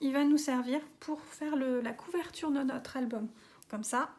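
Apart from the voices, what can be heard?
None of the usual background noises is heard.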